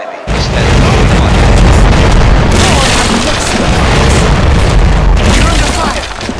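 Ship cannons fire during a naval battle in the game Commander: Conquest of the Americas, a loud, continuous wall of booming blasts and rumble that lasts the whole stretch.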